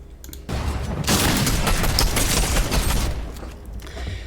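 Rapid bursts of gunfire crackle through a Fortnite build fight, a dense, loud volley lasting a couple of seconds before easing off into lighter shots.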